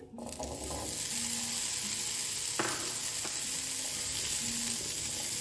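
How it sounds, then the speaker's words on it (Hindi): One cup of chickpeas roasting in a pan over a medium flame, giving a steady close sizzle with occasional scraping clicks from a spoon, alone without talk. "जब इसमें हम वन कप चने डालेंगे मैंने इसको रोस्ट करना है"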